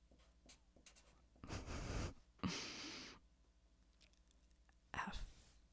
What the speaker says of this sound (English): how am I going to write this?